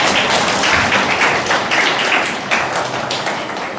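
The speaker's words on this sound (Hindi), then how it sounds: "शाबाश, तालियां बजाओ इसके लिए।" Audience applause at a Seva Bharati event in Kalka, Panchkula: dense, loud clapping from a crowd, sustained for a few seconds and slowly tapering, with no talk over it.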